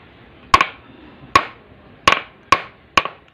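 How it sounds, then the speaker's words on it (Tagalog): A hammer strikes while a chair is being built by hand. Six sharp, loud, close blows land at an uneven pace, each a hard knock with a short ringing tail. "Taasan mo yung ano na martilyo para tamaan."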